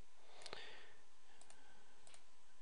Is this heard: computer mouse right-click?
yes